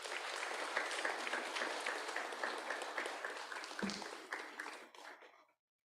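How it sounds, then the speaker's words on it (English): An audience at a memorial tribute program applauds steadily for several seconds, a dense wash of clapping from a crowd indoors that fades out near the end. "Let us give him a big round of applause."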